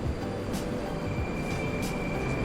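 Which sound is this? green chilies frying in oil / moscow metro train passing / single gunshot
moscow metro train passing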